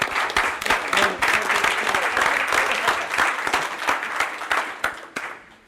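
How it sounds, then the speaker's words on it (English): Audience applause at a regular city commission meeting, a dense wash of many hands clapping steadily for about five seconds before tapering off at the end, with a faint voice mixed in. "All right, give them another round of applause"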